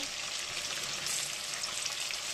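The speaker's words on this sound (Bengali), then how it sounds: "বন্ধুরা, দুটো পটল ভেজে নেব।" Pointed gourd (potol) fries in oil in a kadai, a soft, even hiss of sizzling that runs steadily with no speech over it.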